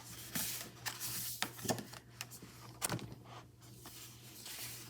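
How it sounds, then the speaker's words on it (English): Pages of a sticker book flip one after another, giving several brisk papery flutters and soft slaps at an uneven pace, close by and fairly quiet, with a steady low hum underneath. "let's flip through Summer Fun"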